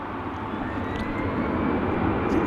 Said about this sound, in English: So that's a 787-9 Dreamliner from Haneda, Japan Airlines.